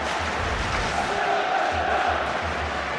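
A dense football crowd at the Walker Stadium during the Leicester City v Cardiff City Championship play-off, a steady, loud roar of appeals filling the whole moment without letting up.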